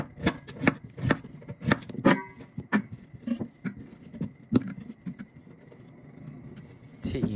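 A knife slices peeled potatoes, giving a series of crisp, close chopping thuds at an uneven rhythm that thin out toward the end.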